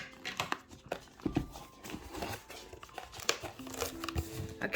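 Subscription box packaging being opened with scissors, a close, quiet run of crinkling, tearing and snipping in irregular bursts.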